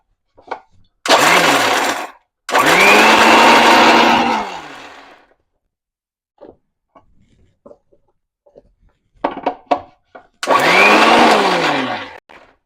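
A mixer grinder roars in loud bursts, coarsely grinding vegetables. Two long runs come near the start and another near the end, with short pulses and clicks between them and no talking over the motor.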